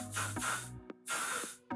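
Hairspray blasted in two long hissing bursts onto backcombed, teased hair for a big stage style, each spray followed by a short sharp puff, close and loud with no talking.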